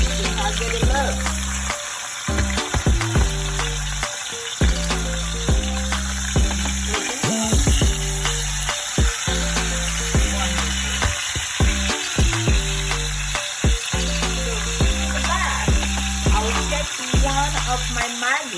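A steak fries well done in a pan with a dense, continuous sizzle and crackle, broken by repeated clattering and scraping sounds close by.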